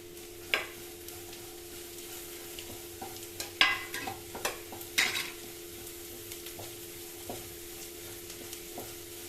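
Soft frying of ridge gourd in a pan with a low sizzle, punctuated by a few scattered taps and scrapes of a utensil stirring, no talking.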